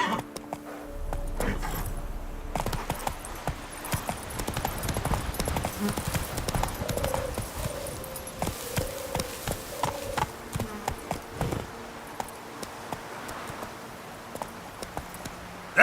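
Horse hooves clip-clop in a steady rhythm as the horse Roach is ridden in the video game The Witcher 3: Blood and Wine, with insect-like buzzing and faint ambient clatter around it.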